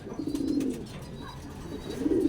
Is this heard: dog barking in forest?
no